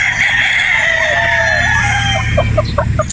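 A Boston Black gamefowl rooster at a game farm in Batangas crows loudly and close, one long drawn-out call, followed by a few quick clucks near the end.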